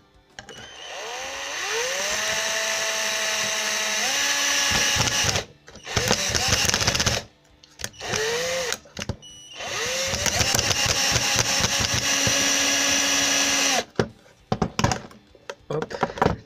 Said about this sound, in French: Et on visse.